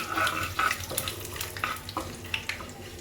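Cumin seeds frying in hot oil in a home kitchen pan, with curry leaves added, as part of making vada pav; a close, steady sizzle with scattered crackling pops and no talking.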